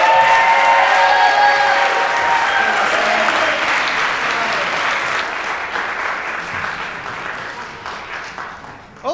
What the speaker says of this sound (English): applause, everybody.